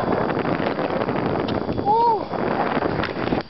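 Steady outdoor wind rumbles and buffets the microphone across the whole stretch, with a person's short surprised exclamation partway through.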